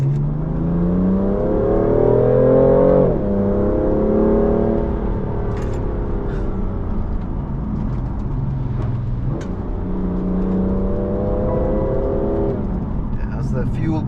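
A BMW F82 M4 Competition accelerates along a country lane, its engine rising through the revs in repeated pulls with gear changes, heard from inside the cabin while someone talks over it.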